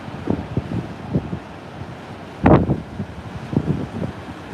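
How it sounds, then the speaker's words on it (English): Strong wind from Tropical Storm Marco at Grand Isle, Louisiana, buffets the microphone in uneven gusts with a low rumble and one louder blast near the middle. There is no talk. "So a little bit of different levels of of wind up here."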